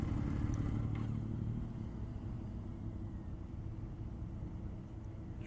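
A 2025 Indian Super Scout Limited motorcycle idles outdoors with a steady low engine rumble, close by and even throughout, with no voices.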